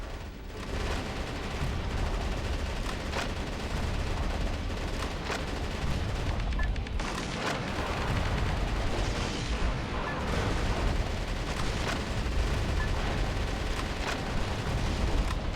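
Gunfire and artillery in the video game Metal Wolf Chaos XD, a steady roar of battle noise with repeated shots and booming blasts, dense and continuous throughout.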